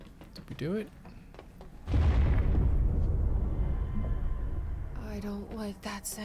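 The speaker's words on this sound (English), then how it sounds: "That's the sound of goop monsters being flushed out the system." A sudden loud rushing whoosh of goop monsters being flushed out of a system in the video game Control surges in and churns for several seconds, with voices talking briefly before and after.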